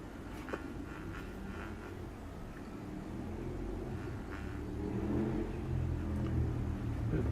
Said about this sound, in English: Let the motorbike pass so I can hear something.